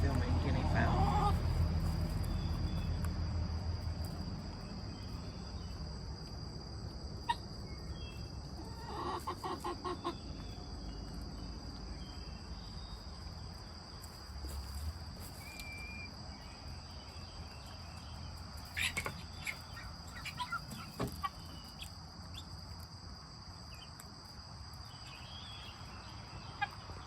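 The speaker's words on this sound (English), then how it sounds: "Instead, I'm filming guinea fowl." Guinea fowl call in short, scattered clucks and cries outdoors among steady insect chirping, with a rumbling gust at first and a person talking at times.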